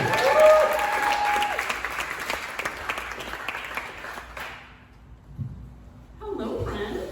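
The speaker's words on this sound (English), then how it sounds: "Everyone give your round of applause for Diana Pete, everybody." Applause for a comedian at a comedy show in a brewery, clapping and crowd noise with some voices, fading out about halfway, then quiet before a voice returns near the end.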